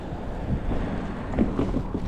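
Strong cold wind buffets the microphone during an e-bike ride in Hawthorne, New Jersey, a close, gusty low rumble with a few surging puffs.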